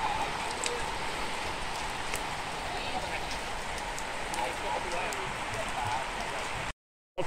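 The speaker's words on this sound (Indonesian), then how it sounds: "Okey, hujan lebat." Heavy rain during a fishing trip out at sea near a reef, a steady, dense, close wash of noise that continues unbroken until a brief cut near the end, with faint voices underneath.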